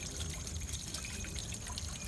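Water from a pipe pours steadily into the vanes of a small pico hydro waterwheel, a continuous close splashing trickle with no pauses and no voices.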